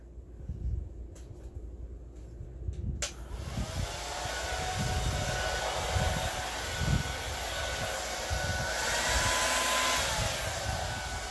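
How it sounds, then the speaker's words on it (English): A hair dryer blows poured galaxy-colour acrylic paint across a black-based canvas in a Dutch pour, switching on after a few clicks and then holding a steady, close whooshing roar. "All right, so now we get the blow dryer."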